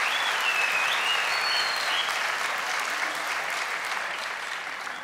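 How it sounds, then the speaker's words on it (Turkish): A studio audience at a Turkish talent show claps in sustained, dense applause that stays loud and even before tapering slightly at the end, with no voices over it. "Ben onun için ayrıca da bir alkış istiyorum."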